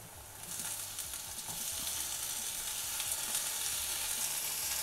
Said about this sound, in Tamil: தக்காளியும் கொஞ்சம் வதங்கட்டும்.